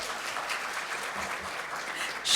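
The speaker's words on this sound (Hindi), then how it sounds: "क्या हुआ, तालियां कहां खो गई?" Audience applause at a prize ceremony for a Hindi fortnight event, a steady sustained patter of many hands clapping throughout, swelling louder at the very end.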